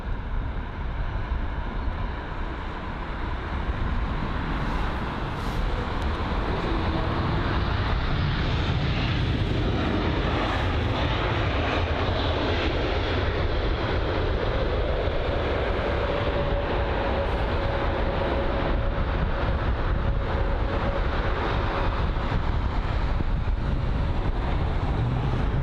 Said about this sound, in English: it is the Lufthansa A320neo arriving from Frankfurt